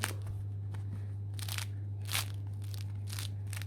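Crisp crackling and crunching bursts of a crusty homemade Dutch-oven loaf being pressed, several short crackles spaced irregularly over a steady low hum, no talking.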